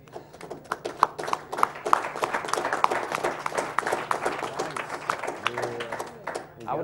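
An audience at a live speedrunning marathon claps steadily, a dense run of hand claps from a crowd, with voices talking over it near the end.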